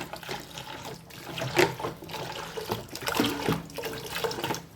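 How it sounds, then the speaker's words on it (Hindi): Water splashes and gurgles steadily into a cooking pot of masoor dal for several seconds, with a rushing, bubbling texture and no talking. "अभी आपको इसमें पानी डालना है"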